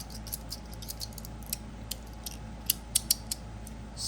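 An aluminum-bodied fidget slider with stainless steel plates is slid back and forth, giving faint, crisp clicks and scratchy ticks at irregular intervals over a quiet background hum. No voices are heard.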